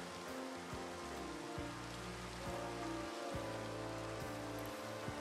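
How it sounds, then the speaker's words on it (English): Steady rain in Minecraft played in VR patters across surfaces with a dense hiss, while low sustained musical tones play underneath. "it's raining"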